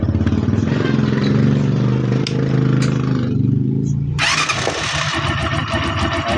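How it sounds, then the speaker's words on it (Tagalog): Cranking and sputtering build into a brand-new TMX Alpha motorcycle engine with a ticking noise firing up, then it settles into a steady, fairly loud idle close by. "kabit natin yung spark plug at paandarin natin yung makina."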